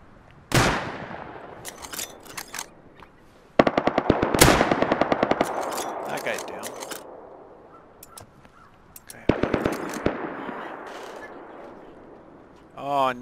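Gunfire from the Rust video game: several loud bursts of rapid automatic fire, each a dense run of sharp cracks decaying into a rumbling tail, with pauses between volleys.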